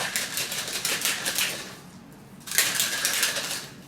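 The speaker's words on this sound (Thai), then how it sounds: "โอเคเขย่า" Powder and water rattling hard inside a whey protein shaker bottle, two bursts of rapid rhythmic sloshing and clacking separated by a short pause, loud and close.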